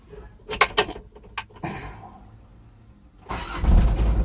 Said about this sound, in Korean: 자, 시동을 한번 걸어볼게요